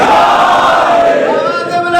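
A packed Muharram majlis gathering roars back the Naara-e-Haidari chant response in unison, a loud, sustained mass of voices that swells and then gradually tapers off.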